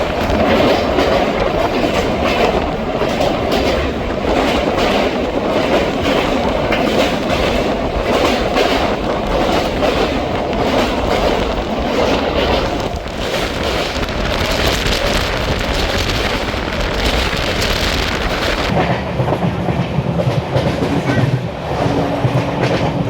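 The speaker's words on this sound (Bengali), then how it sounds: "আমাদের ট্রেন ডানকুনির লাইন ধরে নিল" Tebhaga Express LHB passenger train running on the Dankuni line out of Kolkata, a loud, steady rumble with rhythmic wheel clatter that continues throughout and shifts in tone near the end.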